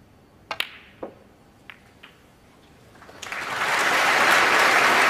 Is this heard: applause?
yes